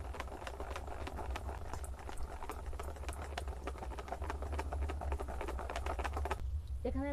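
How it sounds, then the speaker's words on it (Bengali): A spoon rapidly beats a ripe palm and semolina batter in a bowl for steamed pitha, making quick, even, rhythmic tapping and squelching that stays fairly quiet and close. It ends with a brief scrape. "এটা দেওয়ার পর কিন্তু ভালো করে একটু ফাটিয়ে নিতে হবে"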